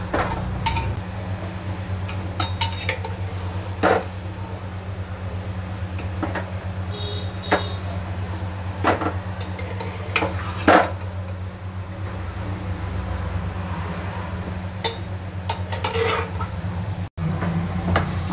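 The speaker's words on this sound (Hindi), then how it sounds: "अब हम इसमें डालेंगे अपने चने" Black chickpeas go into kasuri methi masala in a pan, with scattered metallic clinks and scrapes of a spoon against the pan over a steady low hum.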